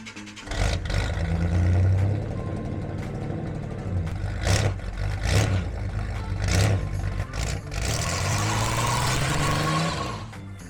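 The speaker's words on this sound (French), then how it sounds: "on va vous démarrer ce véhicule, on va vous faire écouter ce bruit" A Chevrolet 3100 rat rod with a 4.3 Vortec engine cranks and fires, then revs hard in several loud bursts before settling into a rough idle, close by.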